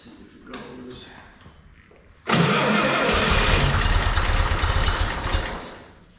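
A 1954 VW Beetle engine cranks briefly and then fires into a loud, steady, rough running roar that lasts several seconds, with voices audible before it catches.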